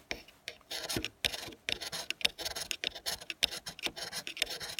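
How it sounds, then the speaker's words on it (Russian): A ferro rod is scraped to shave off material for lighting a fire in a wet forest, heard as close, quick rasping strokes in irregular bursts with brief pauses between them. "Как будто вот серу от спичек мы счищаем. Также я крошу вот сюда."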